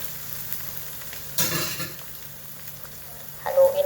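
One kilo of ground pork goes into a pan for Filipino-style picadillo, setting off a burst of hissing sizzle over quiet frying, followed by scraping and clanking as it is stirred.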